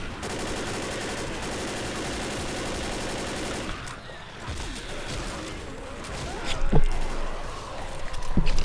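Rapid automatic gunfire from the Left 4 Dead zombie shooter rattles in a dense continuous burst, then gives way to scattered impacts, thuds and game effects, with a few heavier hits near the end.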